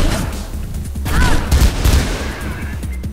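Rapid gunfire from weapons in the video game Mirror's Edge, a run of loud close shots and bursts with a sharp crack near the end.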